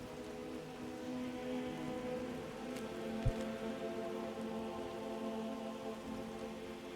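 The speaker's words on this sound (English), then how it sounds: "It's conveniently raining right now." Steady rain patters in the Skyrim game world, a soft, even hiss heard quietly throughout with one brief low thud near the middle.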